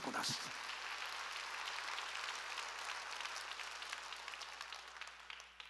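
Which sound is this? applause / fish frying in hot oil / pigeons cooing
applause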